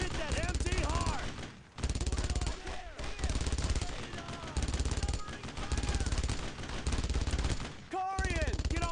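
Dense machine-gun and rifle fire crackles in Brothers in Arms: Road to Hill 30, a World War II shooter, in long rapid bursts with brief pauses, loud and close, while soldiers shout over it.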